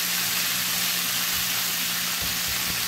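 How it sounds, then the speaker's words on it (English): Steady loud sizzling fills the pan as fish sauce fries on high heat with steak, a dense crackling hiss, constant throughout without voices. "It's going to sizzle a little bit"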